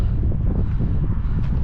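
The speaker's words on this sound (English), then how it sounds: "You probably can't hear a word I'm saying because it's a bit windy now" Wind buffets a microphone on an open hillside walk in Wiltshire, a loud, steady low rumble with gusty fluttering throughout the short moment, no voice heard.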